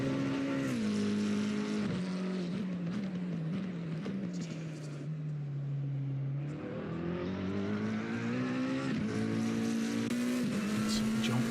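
An onboard race car engine in Assetto Corsa Competizione revs hard and loud, its pitch rising and falling through gear changes and dipping through a corner before climbing again, with commentary speech faintly under it.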